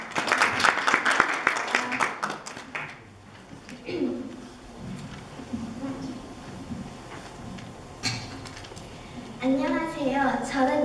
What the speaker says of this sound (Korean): 발표 박수 부탁드립니다